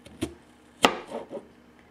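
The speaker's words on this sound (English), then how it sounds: "Chopping the onions." A knife chops onions on a chopping board in a few sharp, separate thuds, one loud strike in the middle and softer cuts around it, close and dry, with no talking.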